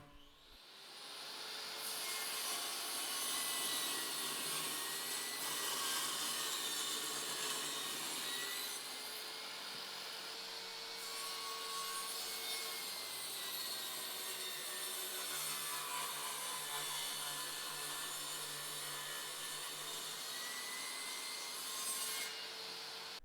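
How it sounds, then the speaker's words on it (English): A table saw rips 5/4 wood stock down into thin 1x2 strips, a steady loud cutting whine holding for about twenty seconds with no talking. "I'm going to thin down this material by just using the table saw"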